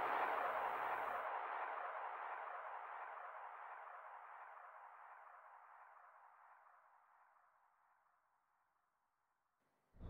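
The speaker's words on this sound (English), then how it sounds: "More explosions, but green." A long, broad rumbling burst from a video-game explosion in Shin Megami Tensei: Digital Devil Saga begins sharply and then fades slowly over roughly nine seconds, with a fresh blast cutting in at the very end.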